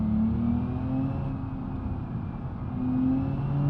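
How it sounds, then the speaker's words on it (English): Six-cylinder car engine in BeamNG.drive accelerating with traction control on, on a West Coast USA map: a steady, close, droning hum with slowly rising pitch that holds its loudness throughout, with no talk. "It sounds like it has a 6-cylinder in it."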